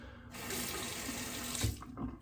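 Tap water pours steadily into a sink while rinsing lather from Mitchell's Wool Fat shaving soap, a continuous splashing rush that shifts slightly near the end, close and fairly loud.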